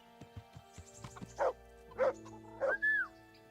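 A dog in the medieval video game Kingdom Come: Deliverance gives several short, sharp barks and a higher yelp, spaced apart over faint background clicks and ambience.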